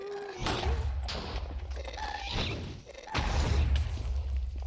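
Video game gunfire erupts in repeated heavy bursts, booming shots and thuds clustered in loud volleys, with some brief tonal game effects between them.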